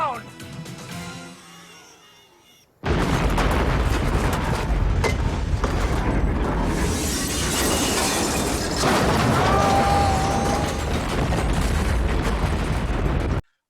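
A big explosion at the end of the film Tremors: after quiet, tense dialogue, a sudden massive blast erupts and continues as a loud, sustained rumble of everything blowing up, with shouting voices and debris noise mixed in.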